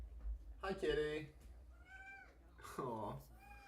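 A cat meows twice, close and clear, with harmonic cries near the start and again toward the end, while a person talks softly to it between the calls.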